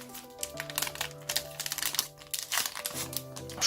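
Crinkly plastic wrapper of a Japanese trading card booster pack being torn and worked open, with dense crackling and crumpling bursts close up, alongside faint tonal music in the background.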